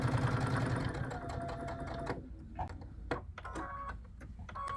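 A sewing machine runs a short back stitch on fabric for a chicken-shaped pin cushion, a steady close mechanical whir that drops off midway into a few brief clicks and bursts of stitching.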